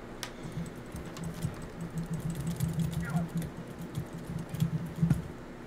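Fast typing on a tactical computer keyboard comes as rapid, uneven clicking bursts, close and fairly loud, with a low hum and a few sharper knocks mixed in.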